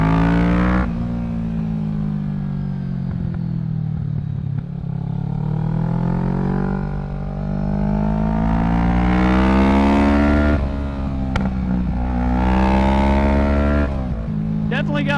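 Kawasaki Z650 motorcycle with a Yoshimura Alpha exhaust being ridden, a loud steady engine drone with rising and falling revs and some popping, a rider talking over it throughout.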